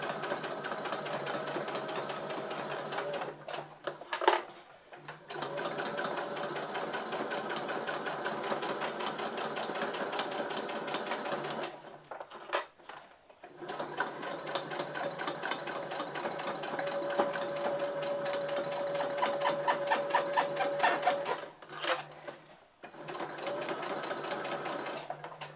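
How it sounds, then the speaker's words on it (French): A sewing machine with a zipper foot stitching in a zipper: a steady, close, rapid mechanical whirring that runs for long stretches and stops briefly three times before starting again. "J'ai bien mis mon pied à fermeture éclair et donc je suis en place pour faire ma couture"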